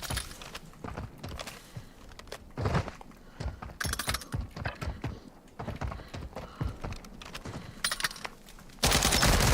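Bursts of AK rifle fire in a battle royale video game, sharp repeated shots in uneven clusters with gaps between them, fairly close, ending in a loud continuous roar.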